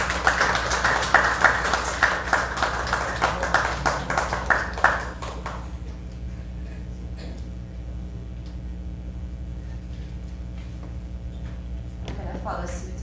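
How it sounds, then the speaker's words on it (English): An audience at a memoir launch event claps for the publisher, a burst of applause that swells and then dies away after about five seconds, followed by a quiet room and a brief voice. "Let's give her a round of applause."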